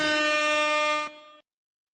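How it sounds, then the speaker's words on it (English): Air horn blasts as a sound effect during a live sports talk show, a loud sustained brassy honk lasting just over a second before cutting off abruptly. "Air horns for Cheryl."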